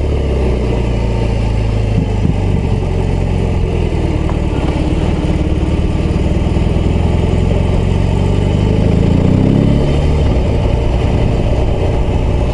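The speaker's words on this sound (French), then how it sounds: "C'est pour voir aussi la souplesse du moteur que je passe par là." A BMW R18 B bagger motorcycle engine runs steadily at low revs, a close, continuous rumble that swells slightly toward the end.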